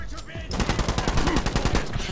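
Rapid automatic gunfire from the video game The Club, a steady burst of sharp shots that starts abruptly partway in and runs loud and continuous to the end.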